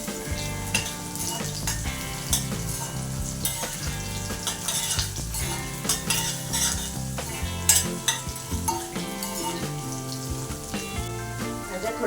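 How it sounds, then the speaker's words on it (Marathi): Chopped carrots sauté in a pan for South Indian sambar, giving a steady sizzle with scraping stirs throughout, partly masked by background music. "आता आपण इथे थोडंसं चिरलेलं गाजर घालून घेऊ आणि गुंडा चांगलं परतवून घेऊ"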